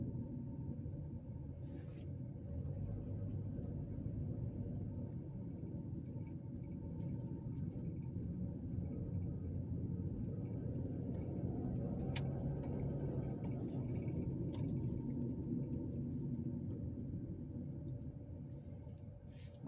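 A car drives through a neighborhood in Gary, Indiana, giving a steady low interior road rumble and engine drone throughout, with a faint tick or two and no talk.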